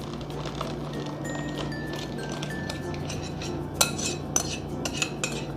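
Wet ingredients are stirred into dry ingredients in a bowl for banana muffins, giving soft scraping and mixing sounds with a few sharp clinks of a utensil against the bowl, close and fairly quiet.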